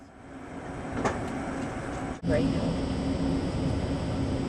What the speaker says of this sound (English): This is a train going through an urban tunnel.